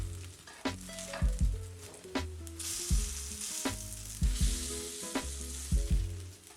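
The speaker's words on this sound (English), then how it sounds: "And now on to frying the hash browns." Vegan hash browns sizzle steadily in a hot pan while a utensil clinks and scrapes against it at irregular intervals, close and moderately loud, with no talking.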